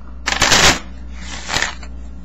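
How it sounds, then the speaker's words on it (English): A deck of playing cards being shuffled, with two bursts of riffling close by: a longer one first, then a shorter, softer one about a second later. "Shuffle the deck real quick."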